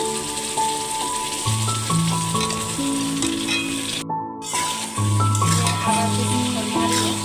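Green chilies and salt stirred into a roast in a pan give a steady frying sizzle with spoon scrapes, mixed with background music.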